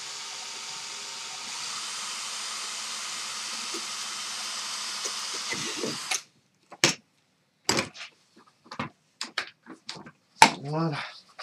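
A power drill bores holes through a homemade box enclosure for a USB charger, a steady whirring hiss for about six seconds, then a series of short clicks and knocks.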